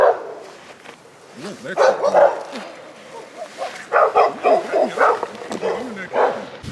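Dog barking in a Colorado outdoor setting, a run of repeated close barks and yips in quick bursts, mixed with people talking.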